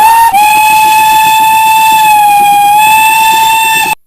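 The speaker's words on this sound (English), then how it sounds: "he was awoken by an odd hissing noise, followed by a shrill whistle" A steam locomotive's loud, shrill whistle blasts steadily for about four seconds, with a hissing onset, then cuts off abruptly.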